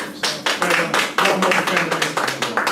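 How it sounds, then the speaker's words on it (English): A small group clapping in quick, uneven bursts at a religious holy day gathering, the claps close and distinct, with a faint voice under them. "Let's give him more round of applause."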